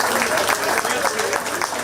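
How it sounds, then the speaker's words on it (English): Audience clapping at a 4-H pie and muffin auction at the Shelby County Fair, steady dense applause filling the short moment, with voices mixed in underneath. "Big round of applause there."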